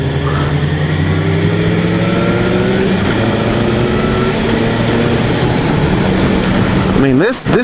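A Suzuki GSX-S750 motorcycle being ridden, its engine holding a steady loud drone with rising tones as it pulls through the gears, wind rush over everything and a sharp shift near the end.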